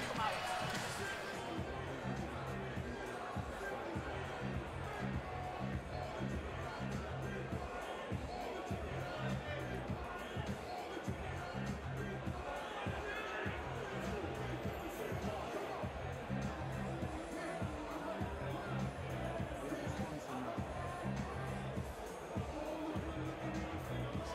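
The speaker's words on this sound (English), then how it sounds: "Oh, the crowd's getting behind these guys now." Steady crowd noise and cheering at a Caged Steel 26 MMA event, a continuous roar under commentary.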